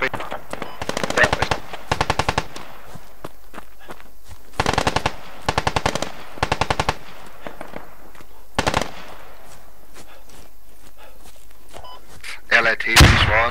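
Automatic gunfire in a multiplayer shooter match, with short repeated bursts of rapid shots between quieter stretches and a louder blast near the end, under occasional team voice chat.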